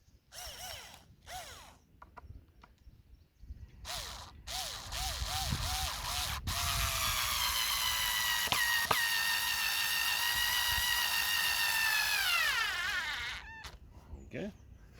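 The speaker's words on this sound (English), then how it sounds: "Use our screwdriver." A power screwdriver drives a screw into wooden garden bed edging, giving a sustained high whirring whine for several seconds that winds down at the end. Brief speech comes before it.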